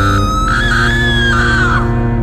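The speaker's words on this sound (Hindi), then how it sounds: "चारों ओर से अजीब आवाजें आने लगी, कभी किसी स्त्री के चीखने।" A woman's high, wavering scream rises and falls over a loud droning background, sustained for a couple of seconds.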